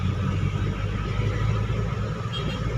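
Busy road traffic in the Philippines, a continuous low rumble of car and truck engines close by, steady and loud with no speech.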